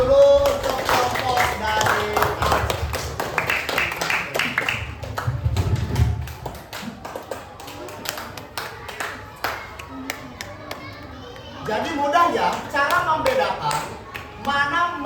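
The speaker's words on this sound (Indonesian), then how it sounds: "Kasih tepuk tangan" Students in a classroom clap their hands in short bursts, uneven and close, mixed with a teacher's voice talking between and over the clapping.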